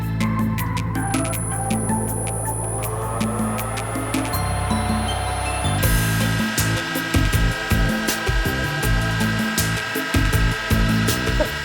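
A wood lathe spins steadily while turning a pen, giving a loud, continuous motor hum whose tone shifts partway through. Faint ticks and scraping sit above the hum, with no voices.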